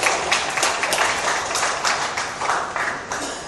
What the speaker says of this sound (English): I'd request all of you to give Triambak a big round of applause